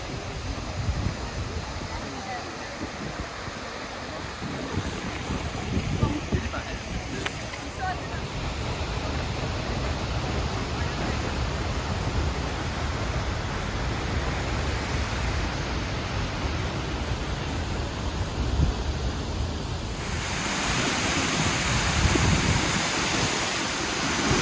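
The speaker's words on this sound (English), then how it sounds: "There's the main falls behind me" Seljalandsfoss waterfall in Iceland pours with a constant, heavy roar, a dense wash of falling water heard up close, with a voice talking faintly underneath.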